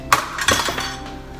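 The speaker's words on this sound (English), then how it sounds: "So let's add half and start mixing." Macaroni salad with mayonnaise, chickpeas, celery and onion being stirred in a bowl, giving a few sharp clinks of a utensil against the dish followed by softer scraping and mixing, close and without talk.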